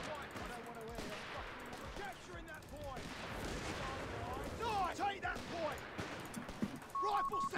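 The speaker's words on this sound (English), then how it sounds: "Alright, enjoy the artillery." Artillery fire and battlefield explosions in Company of Heroes 3, scattered booms and crackling shots mixed with a spoken voice over a noisy war-game soundscape.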